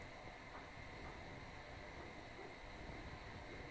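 A propane heater in a workshop runs with a steady, broad hiss and low roar continuously without a break, burning close by, with no talking.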